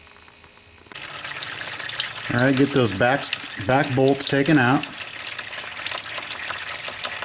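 Fluid pours and drips steadily into a drain pan with a tote lid used as a splash guard, a continuous close splashing hiss that starts abruptly and runs under a man's speech.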